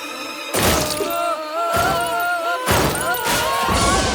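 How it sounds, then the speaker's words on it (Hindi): Cartoon gadget smashing apart in a chain of loud shattering crashes, about four bursts of breaking glass and metal debris with ringing tonal clatter between them, no talk. "मेरा गैजेट टूट गया।"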